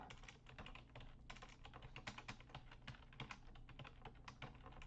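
Fingers tap quickly on a computer keyboard, an irregular run of soft close-up clicks at a low volume with no voices.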